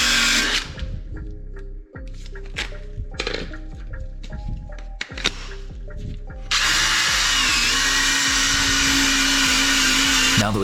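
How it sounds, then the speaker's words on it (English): A power drill spins a wire wheel against a metal brake dust shield during a Nissan 350z Akebono brake install, giving a loud grinding whir with repeated bursts and pauses, then a harsher sustained scouring roar. "Swapping to a larger wire wheel, that way we can cover more surface area and also get in that crevice at the base."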